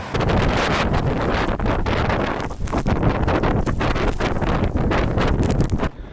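Strong wind of about 120 km/h blasting across the high slopes of Mont Blanc, a loud continuous roar buffeting the microphone for several seconds with gusty surges and brief dips.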